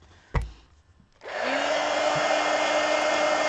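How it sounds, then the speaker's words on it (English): After a sharp tap and a short quiet stretch, a heat gun whirs on and blows a steady, close airflow with a faint motor whine to dry fresh ink on a drawing of a betta fish. "Let me hit this with the heat gun real quick."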